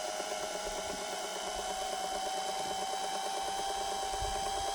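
A rare watchmaker's lathe runs on a somewhat loose belt drive, giving a steady whirring drone with a fast rhythmic ticking flutter throughout, fairly loud and close.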